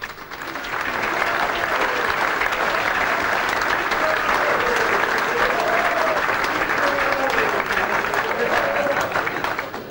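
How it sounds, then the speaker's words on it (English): A stadium crowd applauds a footballer for almost ten seconds, a steady, dense roar of clapping at full strength that holds throughout, with a faint tonal voice drifting over it. "Round of applause for him."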